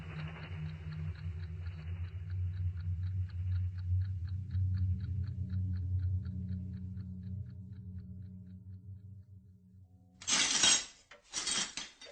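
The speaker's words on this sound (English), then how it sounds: "Well, that's the last of the glass, Mrs. Davenport." Broken window glass pieces for a radio drama effect: a long stretch of light tinkling and rattling shards over a low rumble, then two sharp, loud bursts of glass crashing and clinking near the end.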